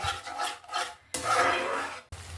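A spoon scrapes and stirs doi katla, a Bengali yogurt fish curry masala, in a pan, giving close rasping strokes in three bursts separated by short pauses, with no voices.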